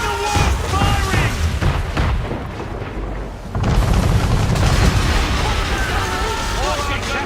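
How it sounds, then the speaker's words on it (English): Heavy cannon fire from a man-of-war warship during a naval battle in Assassin's Creed 3, a string of deep booms rolling under continuous shouting voices, with a louder surge of blasts in the second half. "Man of war firing!"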